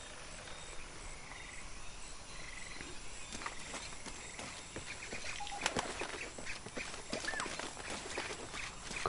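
Birds call in the jungle ambience of the video game Shadow of the Tomb Raider: scattered chirps and croaking calls sit over a steady environmental hiss, growing busier and slightly louder toward the end, with no speech.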